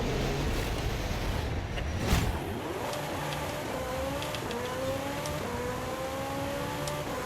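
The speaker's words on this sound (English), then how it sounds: "I've heard this engine go from 1st to 7th gear so many times" Porsche RSR race car engine in a racing video game, revving loud and steady and climbing through the gears in repeated rising sweeps, each shift dropping the pitch before it climbs again, with no talk over it.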